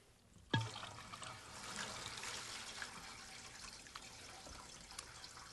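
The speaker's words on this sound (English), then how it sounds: "If the seal is broken anywhere, the water or noise will flow in." Water trickles in through the broken seal of a stopper: a soft knock, then a steady, faint hiss of flow that continues quietly to the end.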